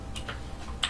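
Keys tapped on a computer keyboard, a few sparse light clicks at close range over a low steady hum, with no voices.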